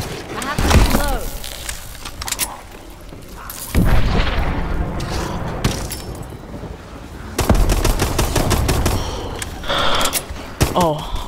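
Gunfire in the Exo Zombies video game comes as rapid automatic bursts and sharp booms, separated by brief lulls and mechanical clicks, loud and close.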